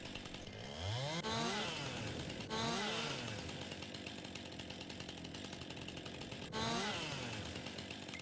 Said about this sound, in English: Got a super cool chainsaw that does all of those things.